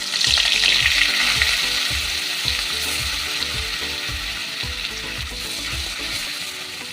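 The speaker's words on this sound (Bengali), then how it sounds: "তেলটা খুব ভালো করে গরম হয়ে গেছে। এর মধ্যে দিয়ে দেব 1 চামচ বাটার।" Butter sizzles and crackles steadily as it melts into hot oil in a wok, a dense, continuous frying hiss with small popping bursts, loud and close throughout with no talking.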